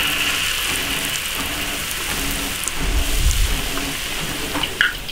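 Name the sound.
starch-coated beef bones deep-frying in hot oil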